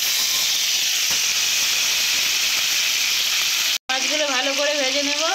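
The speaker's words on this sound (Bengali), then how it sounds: "মাছগুলো ভালো করে ভেজে নেব।" Rohu fish pieces fry in hot oil with a loud, steady, close sizzling hiss; after a brief cut, the hiss continues while a voice speaks over it.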